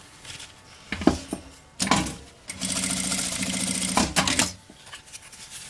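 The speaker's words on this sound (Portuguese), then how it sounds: "vou costurar ela bem do ladinho da alça de mão, aqui em cima" Near, loud sewing machine stitching along the edge of a backpack's hand strap, a steady run of about two seconds, preceded and followed by clicks and fabric handling.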